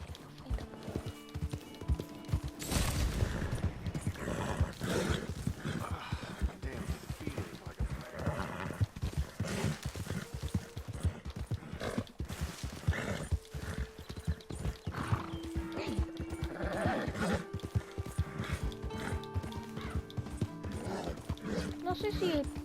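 Horse hooves clip-clop steadily in Red Dead Redemption 2, with whinnies and neighs breaking in over soft game ambience and occasional faint speech.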